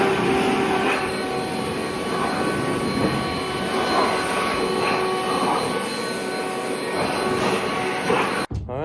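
Blower clearing out a workshop floor, a steady loud roaring rush of air that runs continuously for several seconds before cutting off abruptly at the end.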